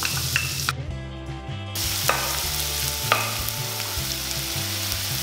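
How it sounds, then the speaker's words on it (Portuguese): Chopped onion sizzles steadily in hot olive oil with a knob of butter in a pan, a loud continuous frying hiss with a few scraping stir sounds and brief clinks, no talking. "vamos dar uma refogada nessa cebola"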